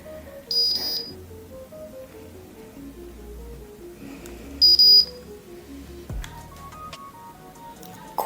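A Wavytalk Power Wave hair crimper gives short high electronic beeps, two clear bursts a few seconds apart, amid soft handling noises with no talking.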